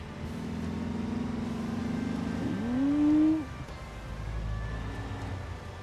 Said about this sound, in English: Do wish we had an engine with like a bit more character to it.